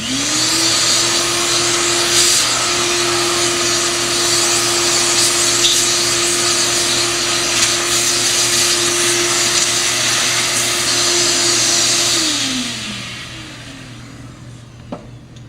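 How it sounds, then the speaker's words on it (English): A vacuum cleaner runs loudly and steadily with a high whine, then winds down near the end as the motor shuts off. "So I'm just going to vacuum this up."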